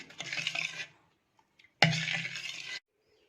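A spoon stirs honey into carrot and beetroot juice in a glass, two short bursts of clinking and swirling separated by a brief pause, close and clear with no talk.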